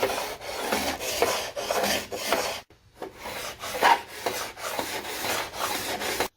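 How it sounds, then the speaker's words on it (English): A fiberglass shim is sanded flush on a boat by hand, with rhythmic rasping strokes, close and fairly loud, pausing briefly midway before resuming. "So I sanded it down till it was completely flush."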